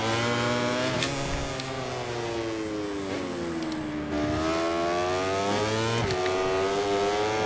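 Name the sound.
motorcycle engine on track lap, MotoGP 24 video game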